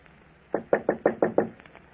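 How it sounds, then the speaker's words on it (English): A radio drama sound effect of a knock on an office door: six firm, evenly spaced raps, close and clear, with no voices. "I was in my office when I heard a knock on the door."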